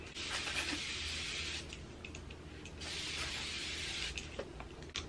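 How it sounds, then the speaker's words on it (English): Caudalie face mist is spritzed onto a face in two soft, breathy sprays, each lasting over a second, close and quiet with no voices. "what I like to do next is spritz this face. I'm gonna go use the Caudalie one."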